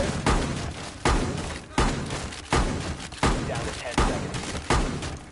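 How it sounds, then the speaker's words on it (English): A rapid-fire gun in a video game, booming loud and close in heavy shots that repeat at a steady pace, each with a decaying rumble before the next hits. "This is why I take this gun, man. Because this thing rapid fire."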